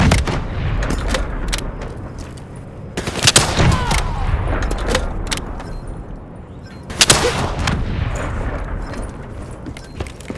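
Rockets and gunfire in Call of Duty Black Ops 3 come as loud booming blasts and scattered shots over a rumbling background, with two heavy explosions standing out amid the din and no talk.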